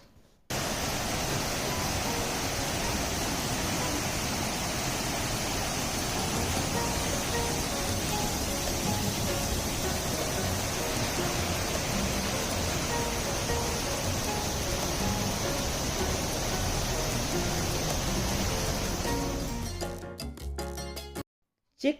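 A gushing waterfall on the Sarahan to Chitkul route in Kinnaur produces a dense, steady roar of falling water, broad and constant for about twenty seconds before cutting off abruptly.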